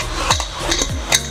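A metal pressure cooker lid being fitted and closed in a home kitchen while cooking beef fry: a few sharp metallic clanks and scrapes in quick succession, close by.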